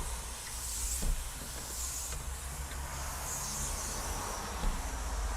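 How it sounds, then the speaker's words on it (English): A FEPPO 2-in-1 steam mop and handheld cleaner sprays steam onto window glass, a continuous close broadband hiss running steadily throughout with a few faint clicks. "we're just going to get some steam on the glass"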